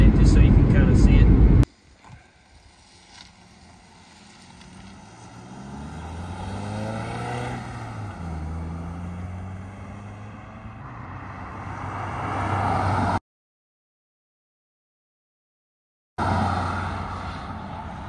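Utility vehicle with a lift kit and hitch driving past outdoors, a loud close rumble at the start giving way to an engine note that rises and falls as it passes, with a steady background hum and a short gap of silence.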